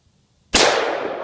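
A single loud, close rifle shot from a .223 Remington round cracks sharply out of silence and then rings and decays over about a second.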